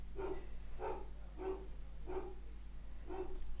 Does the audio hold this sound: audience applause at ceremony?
no